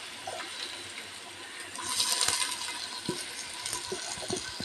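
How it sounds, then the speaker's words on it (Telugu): Chopped onions fry in a clay pot for a chicken curry, giving a low, steady sizzle and hiss close by, with a few soft clinks and stirring scrapes. "ఇలా ఉల్లిపాయలు వేగుతూ ఉంటాయి ఫ్రెండ్స్."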